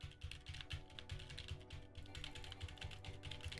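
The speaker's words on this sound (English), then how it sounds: "they would hear just some keyboard sounds" Close, quiet computer keyboard typing: a fast run of soft key clicks with a low background hum and no talk.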